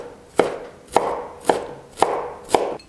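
A knife chops shredded carrot into small bits on a cutting board, five evenly spaced, crisp strokes about half a second apart, close and clear with no talk.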